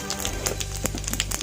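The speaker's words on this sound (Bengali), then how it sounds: "তেলটা আমার গরম হয়ে গেছে, আমি এখানে 5 ফোড়ন দিয়ে দিচ্ছি" Panch phoron whole spices crackling in hot oil for a raw mango pickle, a dense fast patter of sharp sizzling pops over a steady frying hiss, close and continuous.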